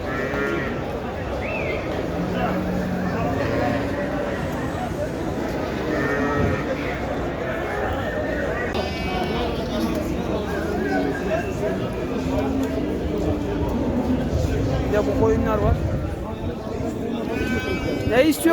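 Sheep and lambs bleat repeatedly amid the constant crowd noise of a livestock market in Şarkışla, Turkey, with people talking loudly nearby throughout.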